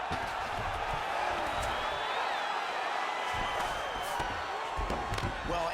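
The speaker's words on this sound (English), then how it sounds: "You hear this crowd just eating out of his hand, oohing and on every time." Arena crowd in the fighting video game UFC 4 during a grappling exchange: a dense, continuous roar of spectators with swelling oohs and cheers, sustained throughout at moderate volume.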